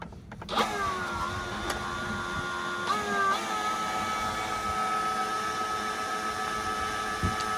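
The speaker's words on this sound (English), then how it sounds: "So I went ahead and I got my blower. I'm gonna put it on here and see what it does." An electric blower aimed into a Belavi smokeless fire pit, a Solo Stove knock-off from ALDI, starts up with a steady, close motor whine. Its pitch shifts slightly partway through, and it runs continuously without any talk.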